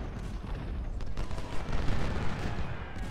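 Massed artillery and rifle fire from a Civil War battle at Bull Run in the strategy game Ultimate General: Civil War, a dense continuous rumble of distant booms and crackling volleys with no clear gaps.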